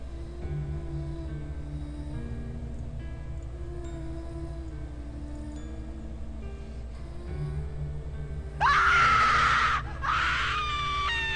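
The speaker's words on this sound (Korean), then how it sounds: "비명소리." A woman's sudden, loud scream in a horror radio drama, two piercing bursts near the end following a long stretch of low droning ambience.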